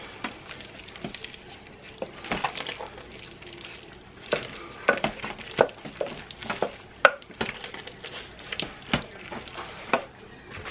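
Ingredients are stirred and mixed in a sizzling pan, with a steady frying hiss under repeated scraping, tapping utensil strokes at an uneven pace, close and without talk.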